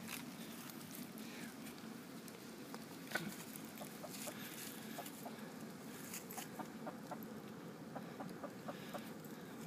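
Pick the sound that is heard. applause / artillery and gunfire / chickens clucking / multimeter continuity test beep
chickens clucking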